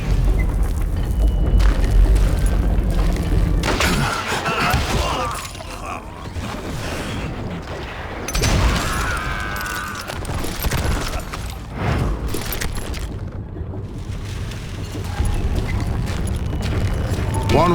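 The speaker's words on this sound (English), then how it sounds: "All it takes is one tiny spark, and boom." A big explosion in the Western shooter Call of Juarez: Gunslinger, set off around a mine. It lands as loud, rumbling booms and crashing debris over constant game noise, with a second heavy burst midway.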